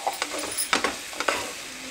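Greens and tomatoes sauté in a pan with a steady sizzle, broken by a few sharp scraping stirs from a spatula, close and fairly loud.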